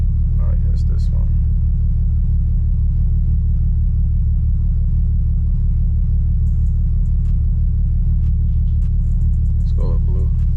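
A BMW 335i with an N54 engine, a compete-level turbo build, sits idling with a steady deep low rumble, close and constant throughout, while faint cabin clicks and small sounds surface briefly near the start and end.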